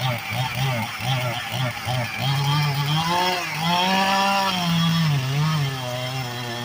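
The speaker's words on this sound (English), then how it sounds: "He's got a big chainsaw." A chainsaw cuts down a tree, its engine whining and revving steadily, rising and falling in pitch, loud and fairly close throughout.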